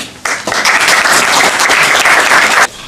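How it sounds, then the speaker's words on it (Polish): Applause welcoming Metropolitan Kallistos Ware at a Polish lecture event: a dense, steady round of clapping from a seated audience that starts abruptly, holds evenly for over two seconds, then stops sharply. "metropolitę oklaskami"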